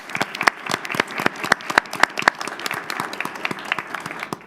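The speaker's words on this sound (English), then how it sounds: "Let's give them a round of applause." Teachers are applauded at a school district board meeting, sparse, irregular claps from a small group, individual sharp hands standing out, close and unaccompanied by voices.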